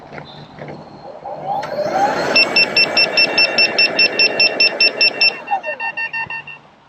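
Loud repeated warning beeps from an electric unicycle (EX30) at full PWM near 96 km/h, a steady rapid train of about fifteen evenly spaced high tones over wind and motor noise.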